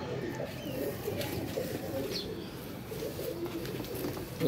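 Pigeons coo softly and steadily, a low murmuring flock sound with occasional faint chirps, close by and continuous with no clear talk, as young pigeon chicks received as a gift are shown.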